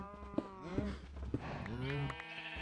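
Cows lowing in a pen in a video game, several overlapping moos rising and falling one after another, moderately loud and close, with no talk.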